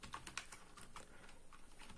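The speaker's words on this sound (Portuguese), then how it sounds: "Vamos digitar o seguinte comando: sudo" Quiet, rapid keystrokes on a computer keyboard as a terminal command is entered, a steady run of soft clicks over faint background noise, no speech.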